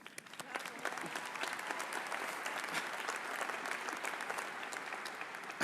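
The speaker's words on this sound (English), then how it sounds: "So please, give yourself a round of applause" Sustained applause from a large crowd at a fall university commencement ceremony, steady and dense throughout with no voices over it.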